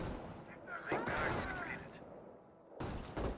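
Rifle squad gunfire in Company of Heroes, the US Riflemen trading shots with Volksgrenadiers, heard as a dense crackle of battle noise with sharp bursts near the start and end, mixed with game speech.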